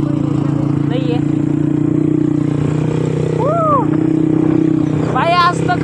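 A motorcycle nicknamed the Beast rides off-road with a steady, loud engine drone throughout, while someone talks briefly over it and short whistle-like chirps rise on top.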